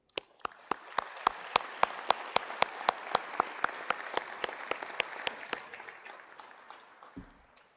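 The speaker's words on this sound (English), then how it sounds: "I would like to give you all a round of applause" Audience applause at a dental school white coat ceremony, steady hall clapping that fades toward the end, with a series of sharp, evenly spaced louder claps standing out above the crowd.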